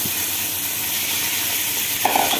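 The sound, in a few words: rice sizzling as added to pot with vermicelli for koshari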